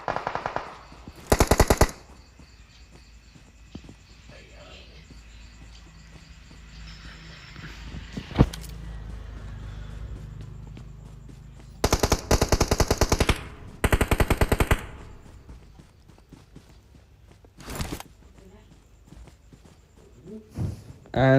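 Gunfire in a competitive shooter video game match, several loud bursts of rapid automatic fire at intervals, with footsteps and quieter mechanical game sounds between them.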